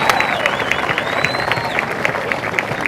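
A crowd at a varsity football game fills the air with sustained, dense applause for the homecoming queen and court, steady and loud throughout, with a faint whistle over the clapping.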